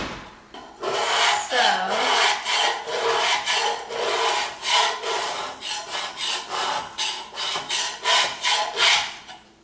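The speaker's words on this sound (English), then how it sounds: "I use my metal putty knife and I just start scraping" Metal putty knife scraping paint off a wooden planter box, a rapid series of rough rasping strokes, close and steady, repeating in an even back-and-forth rhythm.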